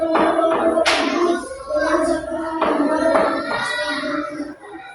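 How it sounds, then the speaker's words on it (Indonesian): Classroom applause from a group of students, several short bursts of clapping with children's voices and a teacher talking over and between them. "Nah, tepuk tangannya."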